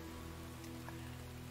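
Rain falling in the video game The Infected, a steady soft patter under a constant low hum, moderately quiet with no voices.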